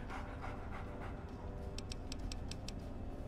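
Dogmeat, the dog companion in Fallout 3, pants steadily and close up in rapid, breathy rhythm, with a short run of light ticking sounds partway through and no talk.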